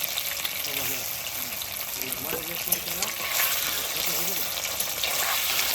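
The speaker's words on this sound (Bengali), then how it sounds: "পনিরটা ভেজে নেবো" Paneer fries in a pan with a loud, close, continuous sizzling hiss and faint bubbling, steady throughout with slight swells, and no talk over it.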